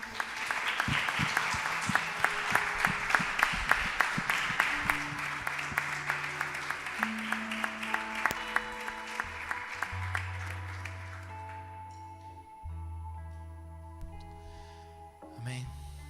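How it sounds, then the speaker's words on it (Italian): A church congregation applauds in a sustained, full round of clapping that thins out toward the end, with held keyboard tones sounding underneath and a voice briefly heard. "Puoi fare un applauso al Re dei Re"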